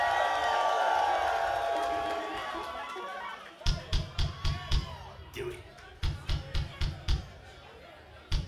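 A live crowd at a rock club show cheers and roars for the band, the noise swelling then fading, followed by a run of loud rhythmic thumps and claps close by.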